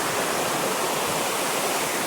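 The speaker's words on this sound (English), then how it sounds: "I can hear running water, I can see a sluice gate" Water runs through a sluice gate by a mill pond, making a dense, steady roar of white-noise rushing, close and loud, with no voices over it.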